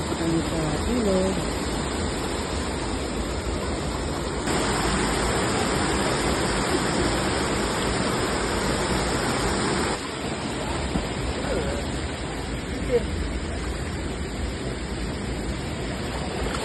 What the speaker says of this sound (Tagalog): Alright, so dito kami sa ilog.